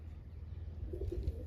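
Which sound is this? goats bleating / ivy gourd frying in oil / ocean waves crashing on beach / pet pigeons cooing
pet pigeons cooing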